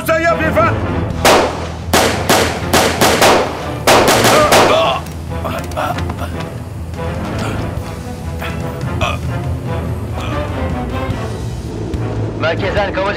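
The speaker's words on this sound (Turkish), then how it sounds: "Asma Sokak'taki otogalerden silahlı çatışma sesleri ihbar edildi" An armed shootout at a car dealership brings loud, sharp gunshots in rapid bursts and volleys for several seconds, then fades into a noisy, rumbling aftermath with voices mixed in.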